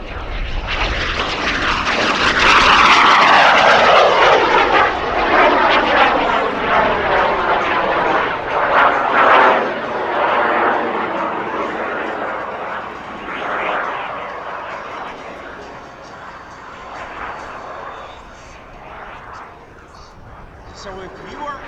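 A SubSonex mini jet roars loudly overhead at an air show, its engine noise peaking early and then fading steadily as it moves away, with talking underneath.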